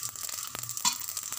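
Poppy seeds roast in a hot pan for a meat gravy, giving a steady close sizzle with faint scraping stirs and a brief louder clatter partway through; no talking.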